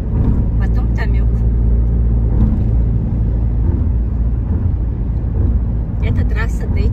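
A car cruises along the D400 highway in Turkey near Erdemli, with a steady, loud cabin rumble of engine and tyre noise throughout, while someone talks over it.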